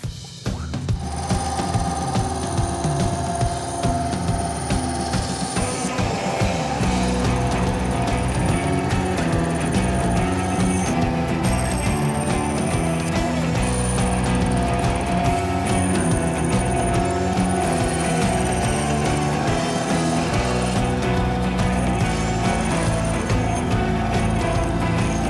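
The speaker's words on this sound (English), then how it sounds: "Now I'm going to go in and trace those lines more closely over on the bandsaw." Bandsaw cutting out the wooden halves of a bow, a continuous motor whine with tonal hum and shifting pitch as the blade bites into the wood, loud and steady, no talking.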